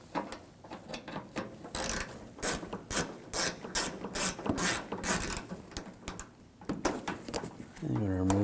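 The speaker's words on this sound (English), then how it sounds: "Use a 8mm socket." A ratchet with an 8mm socket clicks rapidly in bursts as it backs out a headlight screw on a 2007-2013 BMW 328i, close up, with someone talking between turns.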